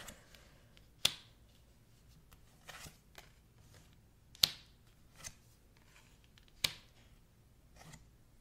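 Tarot cards are shuffled and handled up close in quiet surroundings, with sharp snapping riffles and flicks at irregular intervals over soft rustling.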